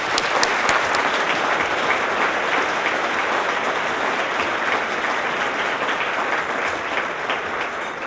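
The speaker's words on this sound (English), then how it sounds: "If we could please give them all a round of applause." An audience at a community award ceremony gives sustained applause, a dense, steady wash of many hands clapping with no talking.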